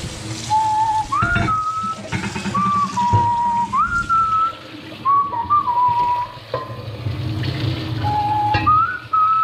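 A person whistles a melodic tune in short sustained phrases over the steady sizzle of spinach crespelle frying in a kitchen, with faint utensil clatter.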